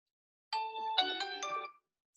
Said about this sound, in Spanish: mejor voy a apagar el teléfono que está tratando de marcar y marcar